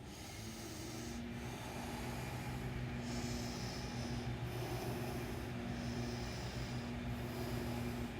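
Deep yoga breaths in a seated forward fold: about five long, hushed breaths at a slow steady pace, close but soft, set against a constant low hum and humming tones.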